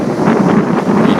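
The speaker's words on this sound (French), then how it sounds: "Il faut dire qu'il y a beaucoup de vent pour l'instant au Burundi." Strong wind buffets the microphone outdoors in Burundi, a loud, close, rumbling roar with uneven gusting pulses throughout the short stretch and no talking.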